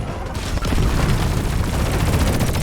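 Rockets launched by the Bosco drone in Deep Rock Galactic, a dense, loud stretch of booming blasts and crackling impacts with no pause over a couple of seconds.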